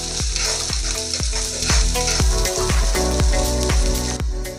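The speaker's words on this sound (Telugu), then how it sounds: "బ్రౌన్ అయ్యేదాకా కలుపుకుందాం." Cubed potatoes with cumin seeds sizzle loudly in a pan while a spoon stirs them toward browning, a steady frying hiss broken by regular, evenly spaced scraping strokes, up close with no voices.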